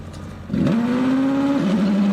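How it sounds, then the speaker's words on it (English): Motorcycle-engined Empire Wraith hillclimb race car, number 79, at Loton Park: a steady idle jumps into a loud rising rev, holds a high buzzing note, then drops slightly as the car launches, close and continuous. "Revs up. And we're launching."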